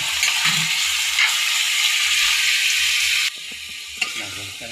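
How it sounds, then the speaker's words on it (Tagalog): Chicken pieces sizzle loudly in a hot pan with onion, garlic and ginger for tinola, a steady bright hiss that suddenly drops quieter near the end, followed by a light clink of a utensil. "Lagay ko na yung aking manok."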